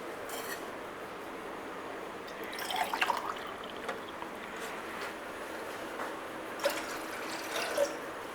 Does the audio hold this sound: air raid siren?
no